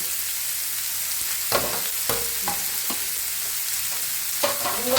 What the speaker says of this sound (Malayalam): നമുക്ക് നന്നായിട്ട് വഴറ്റിയെടുക്കാം. ഉള്ളി വഴന്ന് വരുന്ന നേരം കൊണ്ട്